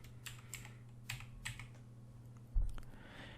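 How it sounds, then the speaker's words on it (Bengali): Typing on a computer keyboard in short bursts of soft key clicks, ending with a single heavier keystroke, quiet and close with no speech. "এখন আমি এখানে শপ লিখে সার্চ দিব"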